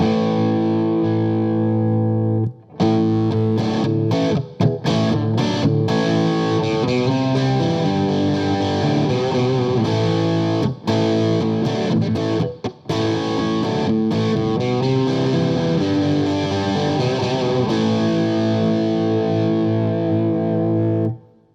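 Electric guitar through an OCD overdrive pedal straight into a Bogner amp plays a crunchy, sustained rock passage with brief pauses, loud and close, with no talking.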